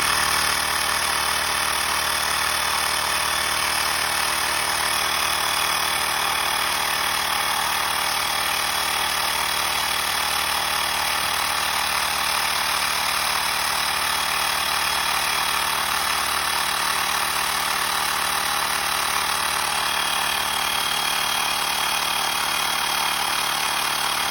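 A Xiaomi portable air compressor inflates a tire toward 8 PSI, giving off a loud, steady, close mechanical whine and buzz that holds unbroken for the whole span with no talk.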